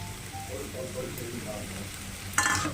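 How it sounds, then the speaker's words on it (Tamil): Prawn gravy with fried onions and coriander frying and being stirred in a pan, a low steady sizzle with a bright burst of crackle near the end, close, under faint background music. "சேர்த்து ஒரு பெரட்டு பெரட்டி விட்டுருங்க"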